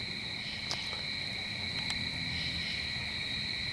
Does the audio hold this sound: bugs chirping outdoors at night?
yes